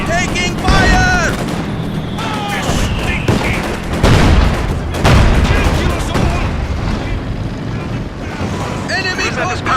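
Rapid gunfire and heavy artillery blasts roar through a Company of Heroes 2 3v3 battle as Russian forces, dense and continuous, with in-game voice callouts layered over the din.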